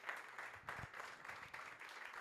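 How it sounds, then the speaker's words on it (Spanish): Faint, distant applause from a church congregation, a soft continuous patter of clapping with no voices. "Quiero darle un aplauso a la palabra en esta noche"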